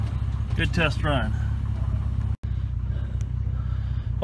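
A Jeep driven on a test run after a drive shaft U-joint replacement, its steady low engine and road rumble continuing throughout, close and fairly loud, with a brief dropout partway.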